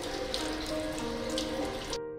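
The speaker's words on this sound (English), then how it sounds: "Clean the tracheostomy tube with running water." Tap water runs steadily into a sink as a tracheostomy tube is rinsed under it, a continuous close splashing hiss that cuts off abruptly at the end.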